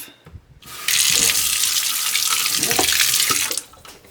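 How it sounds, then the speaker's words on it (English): A faucet bursts on and pours water steadily into a sink to soak a watercolor palette, loud and close for about three seconds before being shut off, with faint handling clatter before and after. "the first step is to take all of these out and to start soaking this palette"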